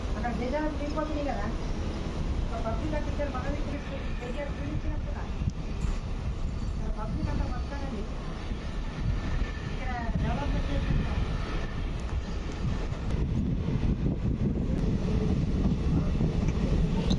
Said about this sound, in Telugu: సో ట్రైన్ అయితే కొడకన్ల రైల్వే స్టేషన్ నుంచి బయలుదేరింది